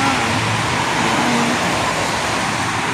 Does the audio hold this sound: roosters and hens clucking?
no